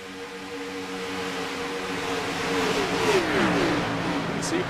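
Race cars circling the steeply banked oval at Daytona in iRacing, a rising whine of engines sweeping past and revving louder as they close in, with no talk over the roar.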